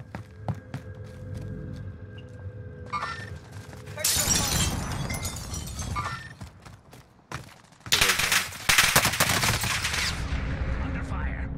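Bursts of automatic gunfire in the video game Warzone Rebirth rattle out in two loud, sustained volleys with sharp cracks and breaking sounds, separated by quieter single shots and footsteps.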